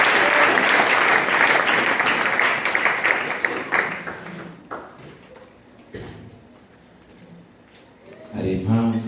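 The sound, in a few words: congregation applauding the church pastor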